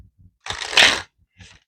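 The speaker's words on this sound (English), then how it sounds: "I want to shuffle it very, very well" Close, crisp riffle of an Inner Voice tarot card deck being shuffled, one main burst of about half a second followed by a brief softer flutter, with a few faint taps around it and no talk.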